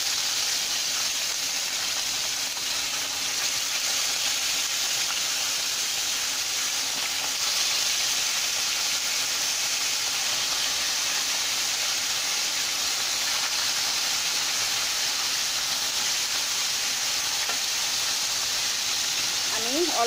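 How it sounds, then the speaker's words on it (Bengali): Hot oil sizzles steadily as fish heads fry for a Bengali fish-head curry, a continuous bright hiss with little change in level and a faint clink near the end. "আমার তেল গরম হয়ে গেছে, এখন আমি আস্তে আস্তে মাথাগুলো দিয়ে দেব।"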